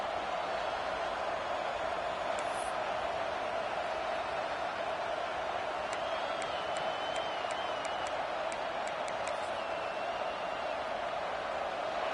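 A football stadium crowd at Michigan vs Texas roars on third down, a dense, steady wall of cheering that never lets up, with thin whistles piercing through near the end.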